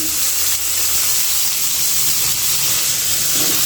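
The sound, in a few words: potatoes and vegetables frying in a pan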